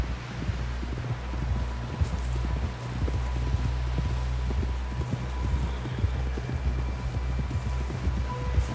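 Horse hooves clip-clop steadily at a walking pace in the video game Red Dead Redemption 2, close and continuous over a low rumbling ambient bed with faint background tones.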